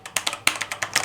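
Rapid clicky keystrokes on a Cosmic Bytes GK-30 mechanical keyboard fitted with blue switches, about ten sharp close taps in just over a second, with no talking.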